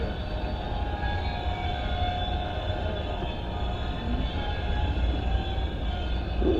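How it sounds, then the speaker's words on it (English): Train passing on railroad tracks, a loud continuous rumble and roar holding steady throughout with no talk over it. "all this noise from these yahoos over here on the railroad tracks"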